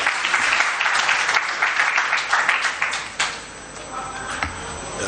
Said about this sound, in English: A round of applause again, ladies and gentlemen.